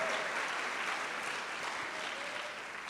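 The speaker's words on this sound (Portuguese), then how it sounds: "vamos aplaudir Jesus que nos deu esta vitória" A church congregation claps together during a worship service, a steady, fairly soft wash of applause with no voices over it, lasting a few seconds.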